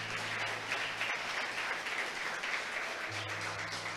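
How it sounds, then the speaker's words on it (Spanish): Steady applause from a church congregation, a continuous wash of clapping at moderate level with a low hum underneath throughout. "Vamos a darle un grande aplauso al Señor."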